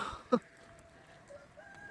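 A hen clucks after laying an egg, one short sharp cluck near the start followed by faint, softer calls, outdoors in rain.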